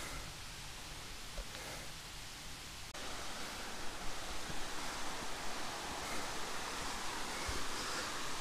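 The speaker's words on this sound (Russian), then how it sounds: "вот тут вышел на этот водопадик" Small mountain waterfall in the Carpathians, Gorgany range, a steady broadband rush of falling water heard up close, constant and fairly loud, swelling slightly after a few seconds, with no voices.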